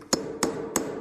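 Three sharp hammer strikes at an even pace set nails into wooden stair nosing, close and crisp, with no talking.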